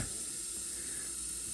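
A steady hissing spray from a spray bottle of Windex glass cleaner runs without a break, close and fairly loud, with no voices over it.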